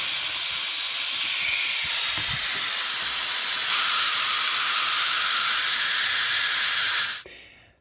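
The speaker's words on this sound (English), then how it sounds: "What I'm going to use is my brake bleeder, and we're going to suck out all the coolant in this jacket right here." A brake bleeder vacuum draws coolant from a 2011-2016 Ford F-150 3.5L EcoBoost engine, producing a loud, continuous airy hiss close by that fades away sharply at the end.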